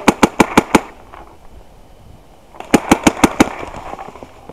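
Paintball markers fire in two rapid bursts of about five sharp shots each, with a short quiet gap between them, during an outdoor paintball game while players call to each other.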